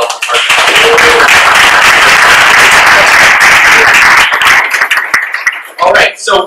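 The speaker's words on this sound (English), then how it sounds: "So have a round of applause for all of our partners" Loud, dense applause from an event crowd honoring partners at a city biking data awards, sustained for several seconds before tapering off near the end.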